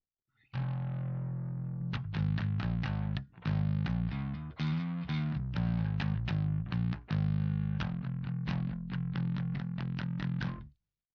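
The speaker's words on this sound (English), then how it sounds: "this has a balance on it, so you can tune in how much overdrive you want to get." A bass guitar played through a Behringer BOD400 bass overdrive pedal gives distorted, gritty notes in quick rhythmic runs with brief gaps, clear and alone with no talking.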